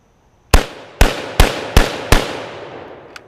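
An SBV Origin 12 gauge shotgun fired at an outdoor range, five loud sharp blasts in quick, evenly spaced succession, each one trailing off in a short decay, followed by a faint click.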